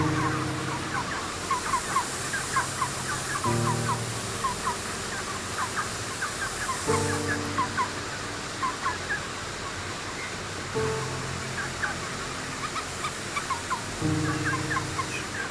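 A flock of chickens on a chicken farm calls in repeated bursts of clucking and gobbling, rising every few seconds over a steady background hum, with no talking.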